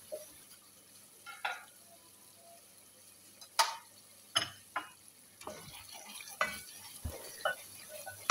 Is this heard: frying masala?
yes